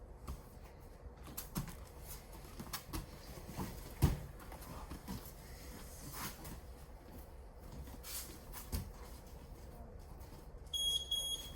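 Near the end, a training timer in an adult beginner Brazilian jiu-jitsu class gives a short run of faint, high electronic beeps over quiet, scuffling gym ambience.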